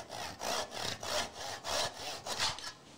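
A hand saw cuts wood for a hinge box with about six regular back-and-forth strokes, each a rasping pulse, close and distinct with no talking.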